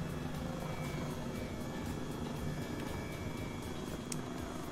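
A Black Hawk H-60 helicopter in Microsoft Flight Simulator drones with a steady, dense rotor whir and faint rhythmic blade chop, continuous and close throughout without speech.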